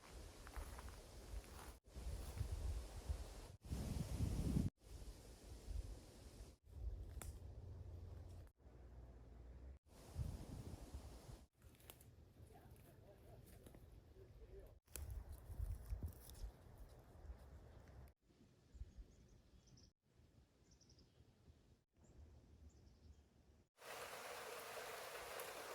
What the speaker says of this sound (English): We've got a major storm rolling in